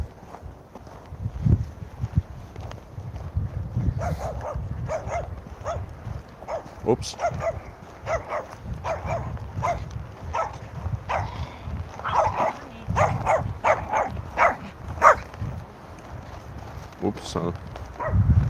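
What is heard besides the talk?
dogs barking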